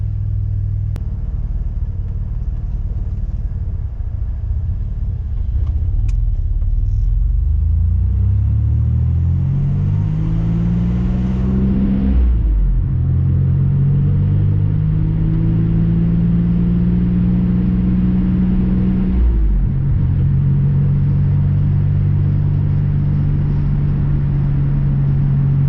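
A Nissan Navara with a VG30 engine rumbles loudly and steadily while driving, its tone rising as it accelerates through the gears, with distinct shifts at a few points.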